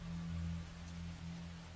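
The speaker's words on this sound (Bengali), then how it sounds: "বিভাসের ঝিরঝিরে বৃষ্টির মধ্যে নৌকার ছাউনির নিচে বসে কোনো রকমে বৈঠা নেড়ে সামনের দিকে এগিয়ে চলেছে।" Light drizzle of rain falling steadily, a faint, even hiss with a low background hum and no voices.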